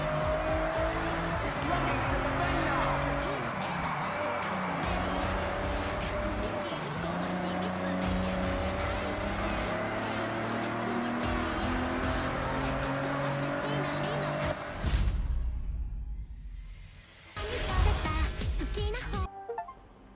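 Racing car engines in the Forza Horizon 6 video game roar continuously at high revs with rising and falling pitch, then give way to short bursts of engine and tire noise near the end.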